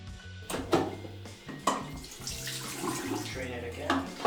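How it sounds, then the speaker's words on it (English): Water pours and splashes into a black-and-white film development tank to wash the film, with a few knocks and clatters of handling in between, close by. "So now we're just going to fill it with water and do some agitations just to wash it."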